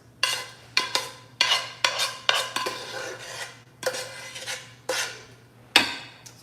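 Onions and peppers are mixed in a pan with a utensil, giving a run of close scraping and clanking strokes in an irregular rhythm over a faint sizzle, with no voices.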